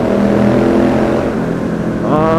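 A Triumph Street Scrambler 900 motorcycle engine drones loud and close, holding a steady rumbling tone before the pitch climbs as it revs higher near the end.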